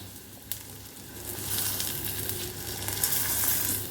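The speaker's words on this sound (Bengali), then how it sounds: "মাছের তেলে না ডিমটাও ভেজে নিচ্ছি, ওই মাছের ডিমটা" Fish roe fries in a small amount of fish oil with a light, steady crackling sizzle that grows a little louder partway through, along with occasional soft stirring taps.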